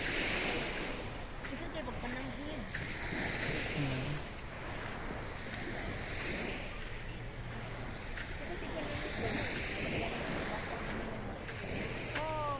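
Ocean surf washes steadily onto the beach at Boracay Island, a continuous rushing roar with gusts of wind buffeting the microphone. Faint voices are heard in the background.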